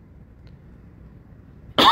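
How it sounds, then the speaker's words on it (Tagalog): A single sharp cough bursts out near the end after near silence, close and loud, recorded on an outdoor bike ride. "Inuubo tayo."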